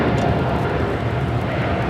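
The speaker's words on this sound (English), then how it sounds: "This is Eva Air Flight 5 taking off to Taipei on the 777-300ER" An Eva Air Boeing 777-300ER jet roars on takeoff at LAX, a loud, broad, steady engine rumble filling the scene without a break.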